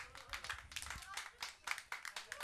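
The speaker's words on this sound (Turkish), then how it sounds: "O zaman alkışları daha yüksek alalım" A studio audience claps in a dense, uneven burst at a Turkish television entertainment show, steady hand-clapping rising and falling throughout, with talk mixed in underneath.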